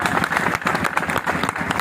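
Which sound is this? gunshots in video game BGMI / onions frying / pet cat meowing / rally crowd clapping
rally crowd clapping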